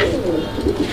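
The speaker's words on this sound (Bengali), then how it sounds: "এখানে চমৎকার আরও এক জোড়া কবুতর" Pigeons cooing in a loft, a continuous layered murmur of soft throaty coos from several birds close by, steady for the whole second with no talk.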